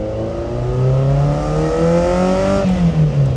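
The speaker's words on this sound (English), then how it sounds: "it actually sounds like a 4-cylinder car" A high-mileage Ferrari engine revs up steadily with a rising whine that resembles a four-cylinder, drops briefly, then climbs again; loud and close, no talking.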